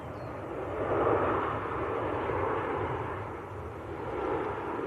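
A Maltese-registered Ryanair Boeing 737-800, inbound from Lisbon on final approach to Manchester, gives a continuous broad jet rumble that rises, eases and swells again, with no voices.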